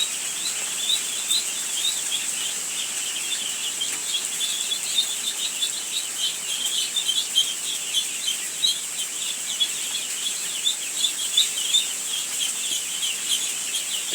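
Khaki Campbell ducklings and chicks chirping steadily in a dense chorus of high peeps, close by and continuous, with light flapping and rustling beneath.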